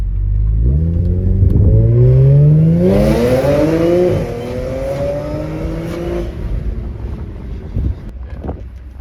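Supercharged Audi RS4 or S5 engine pulling hard under full throttle, a loud rising whine and roar climbing through the revs, easing after a few seconds into a steadier cruising drone with wind rush, no voices.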